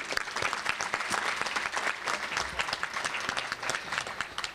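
An audience at a business conference luncheon applauds steadily, dense even clapping filling the room throughout without letting up.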